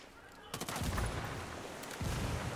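A frag grenade explosion in Ghost Recon Wildlands, a heavy burst of booming and crackling rumble followed by another blast moments later, loud and dense, with gunfire-like chatter mixed in and no talk.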